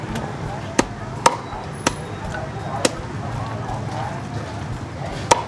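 Sharp cleaver chops strike a board at irregular intervals while cutting up a duck, six or so blows over a steady background hum with faint voices, at a small Saigon duck noodle shop.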